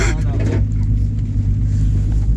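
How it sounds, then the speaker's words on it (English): RB-engined Nissan 240SX with a turbo, driving with a low, steady engine drone heard from close by, while people talk over it. "Finally, this thing is driving."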